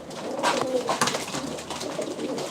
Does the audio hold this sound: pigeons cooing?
yes